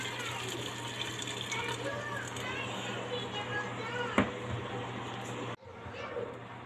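Hot water pours steadily into a cooking pot with a constant gushing hiss, ending with a sharp clink and a sudden drop in sound.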